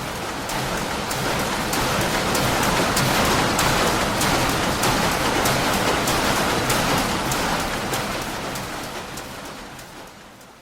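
Heavy rain pours down in a dense, steady hiss, loud and close, easing slightly toward the end.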